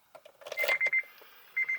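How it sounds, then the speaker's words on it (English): Short electronic beeps come from a car's electronics while a new engine in an RSX is primed. There is a quick burst of clicks, then a few clear tones, close and moderately loud. "That's good, we got the beep."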